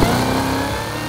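A Cadillac Blackwing's engine holds a loud, steady, close rev that eases off slightly toward the end of the short burst.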